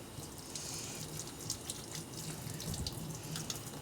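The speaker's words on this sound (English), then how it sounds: "do a quick little rinse" Kitchen tap water runs steadily into a sink for a quick rinse while banana pudding is being made, a continuous close splashing rush with no speech.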